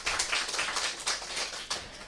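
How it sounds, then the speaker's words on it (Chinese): Hands clap in a lecture-class audience, a short run of fairly quick, evenly spaced claps at moderate volume, close by and without voices. "所以还是要给他们掌声了"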